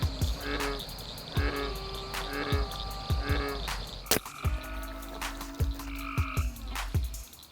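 Frogs croak loudly at night during a frog gigging outing, with repeated throaty calls in an irregular rhythm and a faint insect chirr underneath, plus one sharp splash or knock partway through.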